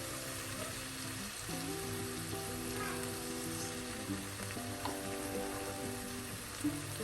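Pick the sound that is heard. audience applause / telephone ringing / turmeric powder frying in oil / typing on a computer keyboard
turmeric powder frying in oil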